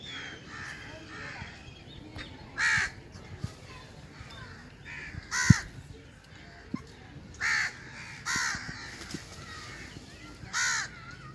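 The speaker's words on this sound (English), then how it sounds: "Seriously, these crows are so annoying" Crows caw in short harsh bursts at a zoo in Islamabad, several calls spaced a couple of seconds apart, moderately near over a faint background hum.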